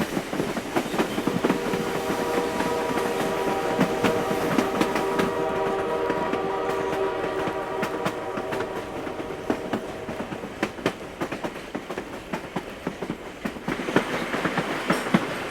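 The White Pass gold rush train rolls steadily along its rails, a loud, continuous rumble with rhythmic clickety-clack and a faint squealing tone that fades partway through.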